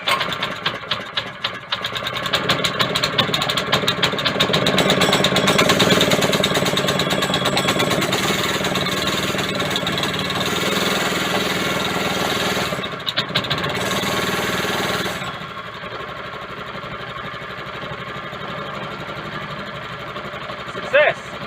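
A small go-kart engine with a centrifugal clutch runs with a fast, buzzing rattle, loud and steady, then drops to a quieter idle near the end.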